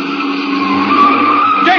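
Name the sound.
car skidding around a corner on two wheels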